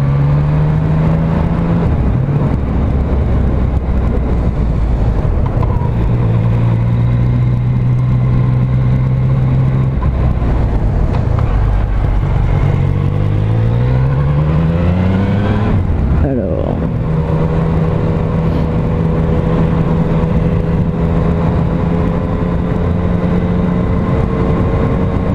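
A Yamaha MT-09 SP motorcycle engine pulls hard while overtaking on the road, its pitch climbing and dropping with gear changes over steady wind rush, close and loud throughout.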